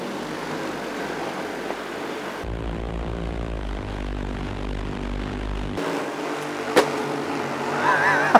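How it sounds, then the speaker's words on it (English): Large 100 kg heavy-lift drone flying overhead during a test, its rotors giving a steady droning buzz that swells loud and tonal for a few seconds in the middle and eases off again, with outdoor noise and a few knocks. "I'm seeing this massive drone just above me"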